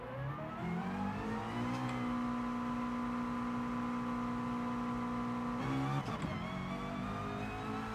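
McLaren race car in GT Sport, its engine holding a steady loud drone with a rising pitch early on, then a sharp shift or throttle change near the end, continuous with no talking.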